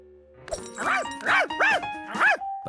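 A cartoon dog barks four times in a row, bright and close, each yelp springy and rising before falling off.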